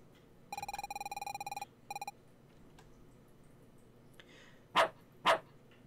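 A dog barks twice in quick succession in the Crescent Eve RPG demo, sharp game sound effects that follow a run of bright electronic chiming tones and a pause.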